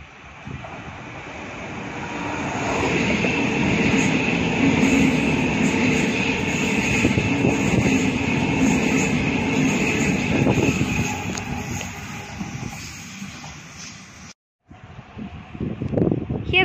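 Suburban passenger train arriving at Summer Hill station, a broad rumbling roar that swells over several seconds, holds, then fades before a brief dropout near the end.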